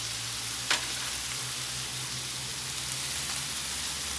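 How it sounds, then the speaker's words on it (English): Lo mein fries in a homemade flavor sauce on a Blackstone 22-inch griddle, giving a steady, close hiss of sizzling that runs unbroken throughout, with one faint tap early on. "Add a little bit of this flavor sauce I made. Cook it in that to get it a little bit browned up."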